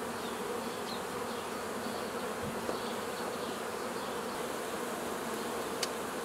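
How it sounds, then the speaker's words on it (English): Dense, steady buzzing of many honey bees on a hive frame close by, a continuous droning hum with occasional brief louder passes. "Lots of bees all over it."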